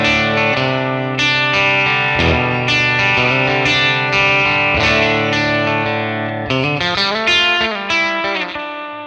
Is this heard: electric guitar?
yes